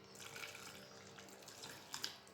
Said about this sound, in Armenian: Ավելացնում եմ մեկ բաժակ, համարյա 250 գրամ այս ջուր եմ ավելացնում։